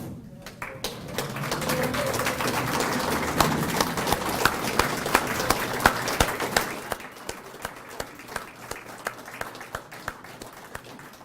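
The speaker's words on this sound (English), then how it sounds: "I would like for all the staff to stand up and take a bow as we clap for you" Audience at a credit union annual general meeting clapping for staff standing to take a bow, a steady mid-distance patter of many hands with sharper individual claps that tapers off toward the end.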